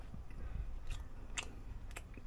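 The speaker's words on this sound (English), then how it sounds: "I chew my food." Close, faint chewing of smoked Hawaiian-style fish (hagi or kawalea barracuda), a few soft crunchy bites and mouth sounds spread over a couple of seconds, with no talking.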